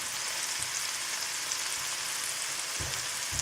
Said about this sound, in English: add our raisins and sliced peeled apple. I'm going to saute these for about 2 minutes.